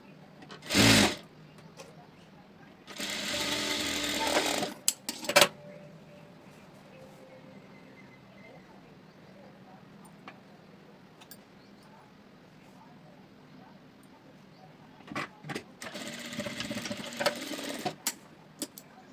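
A sewing machine stitching a blouse lining runs in three bursts: a brief one, a longer run of a couple of seconds, and another longer run near the end. Quieter stretches between them carry faint handling noises and someone talking.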